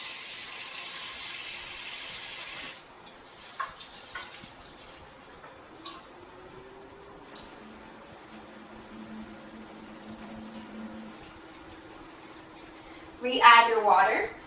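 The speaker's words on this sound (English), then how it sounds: "Then we're going to rinse the rice." Running water pours and splashes for a few seconds as rice is rinsed, followed by quieter handling sounds and a brief burst of swishing near the end.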